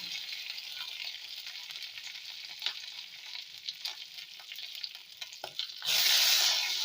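Cumin seeds, curry leaves and green chili fry in hot oil with a steady, close sizzle that crackles throughout, swelling into a louder, brighter hiss near the end as the chili goes in.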